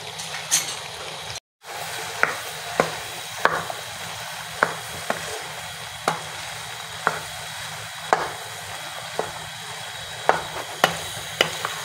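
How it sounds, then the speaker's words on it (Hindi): Chickpeas fry over a medium flame in a pan, giving a soft steady sizzle broken by regular clinks and scrapes of a spoon as they are stirred. "अब मैं इसे फ्राई करूँगी मीडियम फ्लेम पे"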